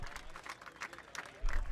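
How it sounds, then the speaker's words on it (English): Short burst of applause with scattered clapping at a golf outing after a good shot, rising near the end, mixed with nearby talk and outdoor noise. "Some applause for you, Philly."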